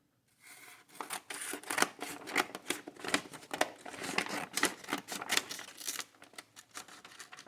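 Scissors snip through a paper bag to cut it in half, a near, dense run of crisp cutting and crinkling bursts with no talking.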